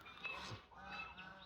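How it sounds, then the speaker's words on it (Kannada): Waterfowl at a rural homestay give a short, faint, nasal honking call that repeats a couple of times in quiet surroundings. "ಅಲ್ಲಿ ಬಾತುಕೋಳಿಗಳಿದ್ದಾವೆ"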